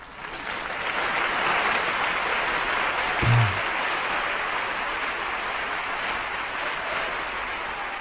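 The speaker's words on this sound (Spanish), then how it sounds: "Muchas gracias y un aplauso." A studio audience at a television program applauds steadily, a dense, even clapping that carries on for several seconds with a single brief thump partway through.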